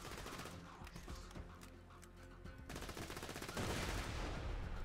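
Rapid automatic gunfire from a fast-firing gun in Borderlands 2, a dense stream of shots running nearly five seconds with a brief lull in the middle, then growing louder and more continuous toward the end.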